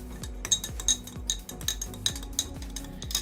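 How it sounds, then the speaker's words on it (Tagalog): A spoon stirs mint herbal tea in a glass, giving a run of bright clinks against the sides at an uneven, quick rhythm, close and fairly quiet with no talk. "And then, hahaluin mo na lang siya."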